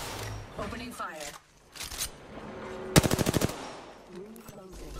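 Automatic weapon fire in Apex Legends rattles off a rapid burst of about eight shots, set among game voice lines and background game sounds.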